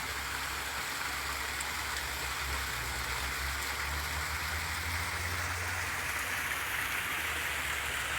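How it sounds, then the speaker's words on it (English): A creek in Yavne'el in Galilee flows strongly, giving a steady, dense rushing and splashing of water that holds even for the whole stretch, close and fairly loud, with no voices. "Let's just show you the water running here."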